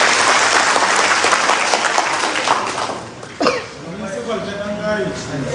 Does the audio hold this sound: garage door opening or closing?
no